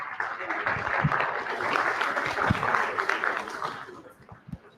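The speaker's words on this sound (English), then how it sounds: "I want you all to give a round of applause for yourself." A large awards-ceremony audience applauds in a sustained, dense round of clapping at a national Indian awards event, steady and fairly loud throughout, with a few sharper claps and thumps near the end.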